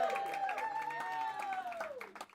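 Audience applause for the host of a live comedy show at The Humboldt Jungle: steady clapping with cheers that fades out near the end, while a tonal voice or whistle-like sound rises over it.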